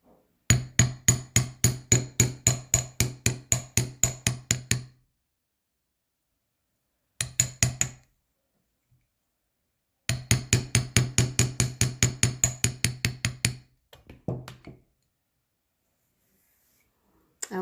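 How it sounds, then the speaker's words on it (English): A hammer strikes wire being shaped into leaf earrings, fast steady bursts of sharp metallic taps, close and loud, in several runs separated by silent pauses. "And we're going to hammer it again."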